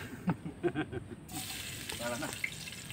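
Garlic sizzling as it hits a hot pan while cooking adobong pato (duck adobo): a soft frying hiss that swells and continues steadily after a few quiet clicks, with a voice faintly in the background.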